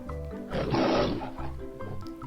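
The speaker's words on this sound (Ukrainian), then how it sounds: "Великий і поважний лев має дуже густу гриву. В нього дуже грізний рев" A lion's deep, loud roar swells and fades over a soft musical backing, close and alone without speech.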